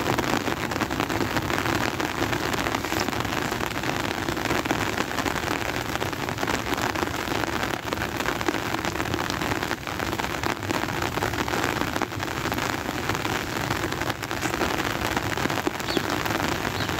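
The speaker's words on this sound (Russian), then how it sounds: "Посылает дождь." Steady rain falls on a surface, a dense continuous patter with no pauses and no voices.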